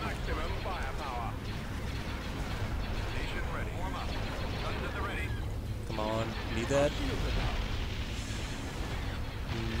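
Spaceship cannons firing in a Star Wars space-combat video game, a dense ongoing barrage of booming blasts and engine rumble that nearly drowns out a man urging continued fire and a radio voice.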